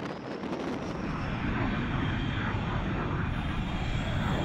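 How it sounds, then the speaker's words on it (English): A fighter jet lands on an aircraft carrier, its engine a loud, steady roar with broad rushing noise that holds at full strength for the whole stretch, with no voices. "the tailhook catches one of the cables, subjecting the aircraft to intense deceleration forces."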